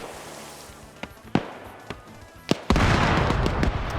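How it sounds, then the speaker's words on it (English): A grenade-style explosive charge going off in a multiplayer video game: sharp pops and clicks lead up to a sudden loud blast whose rumbling roar carries on to the end. "That was an explosive charge"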